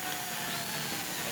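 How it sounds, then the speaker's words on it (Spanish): A variable-speed electric hand drill with a single-phase universal motor runs at a steady high whine, a continuous buzzing drone with no pauses over a short stretch. "Este es un taladro de velocidad variable."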